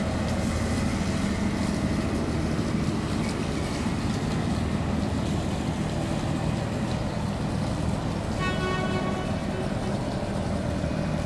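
A single-engine sand-carrying barge running low in the water on a river, its engine a loud, steady rumbling drone that continues unbroken throughout, with no talk.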